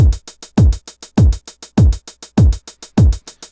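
A programmed drum beat with booming kick hits all at maximum velocity 127, landing at identical full strength, interleaved with crisp, evenly spaced hi-hat ticks, loud and mechanical.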